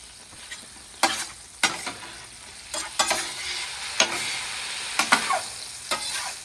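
Lemon garlic shrimp pasta with zest, juice and parsley fries on a very hot flat top griddle, a steady close sizzle broken by sharp scraping clicks of a spatula as the food is stirred and moved.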